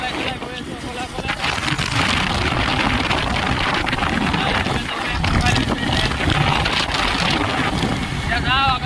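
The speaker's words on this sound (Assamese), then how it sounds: "বাইক চলাই গৈ আছোঁ অকলে অকলে।" A motorbike ridden solo on a road, with steady engine drone and heavy wind rush buffeting the microphone throughout, loud and continuous, with a voice talking faintly underneath.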